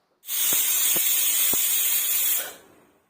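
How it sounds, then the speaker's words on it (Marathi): A pressure cooker full of chole lets out a loud, steady burst of hissing steam that starts abruptly, holds for about two seconds, then cuts off, with a few faint knocks underneath. "मी आता कुकरचं झाकण लावते आणि त्याच्या तीन शिट्ट्या करून घेणार आहोत"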